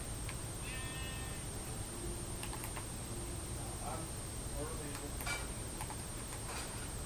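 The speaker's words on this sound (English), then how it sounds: "Get out of here, sheep." A Minecraft sheep lets out a brief, faint bleat early on, set against steady background hiss with scattered clicks and soft taps.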